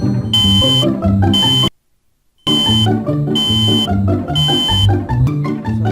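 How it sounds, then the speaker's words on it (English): Countdown timer alarm in the Android Toolbox app playing a loud, continuous stretch of melodic music with steady notes, broken by a brief silent gap before resuming. "timer is playing some music now"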